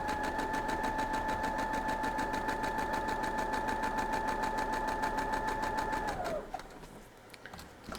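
A sewing machine stitches quilt block fabric in a fast, steady whirring hum with rapid needle ticks, close and continuous, before winding down and stopping near the end, leaving faint rustling.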